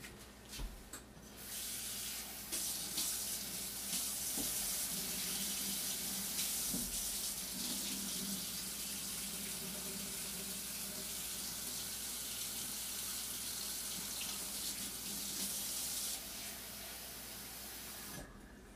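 Water runs from a kitchen sink tap to fill a quarter cup for bread dough, a steady, loud hissing gush lasting about fifteen seconds before it shuts off.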